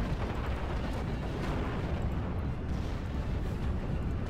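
Typhoon aircraft strafing run in the WWII game Steel Division: Normandy, a dense, continuous roar of rumbling gunfire and explosions that stays loud and steady throughout.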